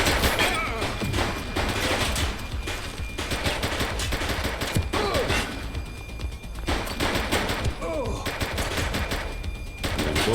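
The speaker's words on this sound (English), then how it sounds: "Shots fired!" Police gunfire in the video game The Precinct: dense bursts of shots and volleys crack out loud and close across the whole stretch, with short gaps between rapid strings of fire and a few heavier thuds.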